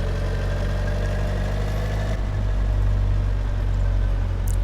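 A car engine in the video game My Summer Car runs steadily with a deep, constant rumble, its pitch dropping slightly midway as it keeps droning without pause.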